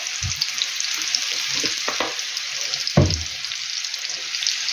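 Young potatoes frying in oil in a pan give a steady, close sizzle, with a few sharp clatters of stirring against the pan.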